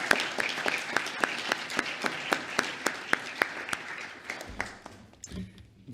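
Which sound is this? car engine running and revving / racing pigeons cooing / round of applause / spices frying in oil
round of applause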